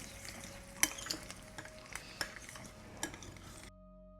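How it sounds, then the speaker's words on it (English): A utensil stirs a mixture in a hot pan, giving a soft sizzle broken by scattered clinks and scrapes against the metal before the sound stops abruptly. "We're going to give that a stir."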